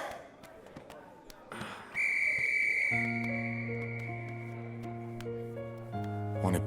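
A single sustained whistle blast cuts in loud and steady for about a second, and then soft sustained music chords take over.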